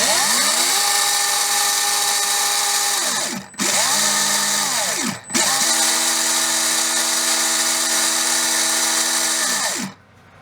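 A Trinity Double Down 17.5 Outlaw brushless RC motor spins on a dyno in auto mode, a loud steady electric whine that ramps down and back up through two brief speed changes, then cuts off near the end.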